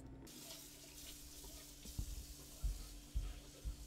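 Liquid pours into a shot glass, a steady wet trickle with a few soft low knocks and splashes as the flow lands, fairly close and alone without talk.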